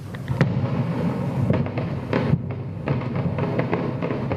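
Fireworks go off in a scattered series of sharp bangs and crackling bursts, some near, some fainter, over a dull rumbling background.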